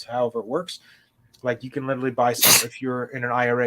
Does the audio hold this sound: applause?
no